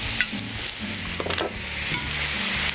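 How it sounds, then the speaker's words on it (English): Chard stirred in a frying pan with a little oil, sizzling steadily and loudly with scraping and clattering from the stirring utensil, close up and with no voices. "And then let's give our chard a stir."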